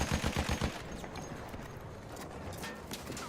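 Rapid bursts of gunfire in the Battlefield 1 video game, a short volley of shots at the start followed by dense, rumbling battle noise that carries on steadily without talk.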